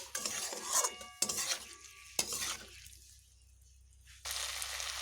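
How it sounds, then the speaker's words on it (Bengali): Pieces of taro (kochur mukhi) with salt are stirred in a pan. A utensil scrapes and clatters against the metal in short bursts, with a faint sizzle between strokes and a quiet pause before the stirring resumes. "নুন দেবার পরে একটু ভালোভাবে মিশিয়ে নেব।"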